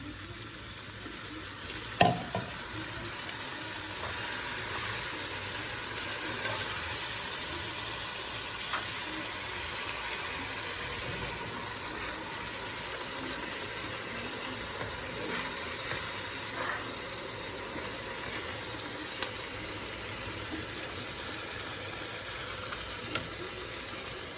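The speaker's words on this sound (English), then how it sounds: "I'm going to add my tomatoes, which is a cup and a half of tomatoes." Tomatoes going into a hot pot for shrimp and okra creole, giving a steady, soft frying sizzle with a brief splash early on and faint stirring throughout, no voices.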